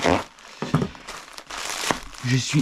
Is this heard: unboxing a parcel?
yes